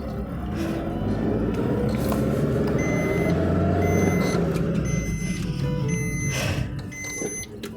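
A camper van pulls forward after being put in gear, its engine droning steadily up close, while intermittent high electronic beeps sound throughout, with no talking.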